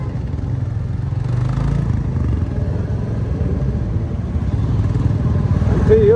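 A group ride of seven or eight motorcycles sets up a loud, steady engine drone that runs unbroken from start to finish, with no clear revving peaks.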